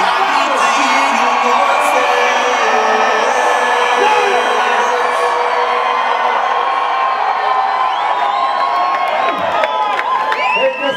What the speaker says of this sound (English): Can you scream? I need to hear your voices.